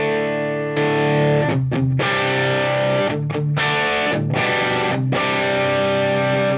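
Electric guitar through a compressor pedal used as a boost, with a compressed, slightly overdriven tone, plays sustained chords and short muted strums, loud and close, with no talking.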